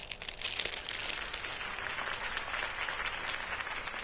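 Steady applause from a large crowd in a Batman video game, a dense wash of clapping that holds at an even level for a few seconds, with no voices.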